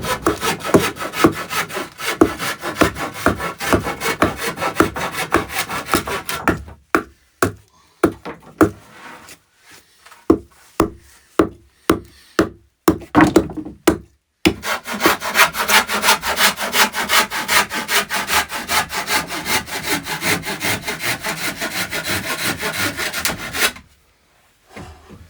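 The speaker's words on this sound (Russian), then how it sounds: "Ножовка просто огненная." A hand saw cuts wood for a house floor in close, loud, rapid rhythmic strokes, pausing midway for slower separate strokes and knocks before another long fast run ends abruptly.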